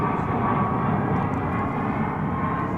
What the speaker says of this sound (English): that's another 20th century 777-200ER. Going to Madrid.